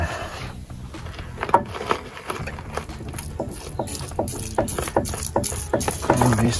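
A 1995 Dodge Ram 2500 diesel truck with fuel system problems runs on gasoline, giving a rough, rhythmic rattling clatter at a steady idle-like pace, heard close with a woody, knocking character.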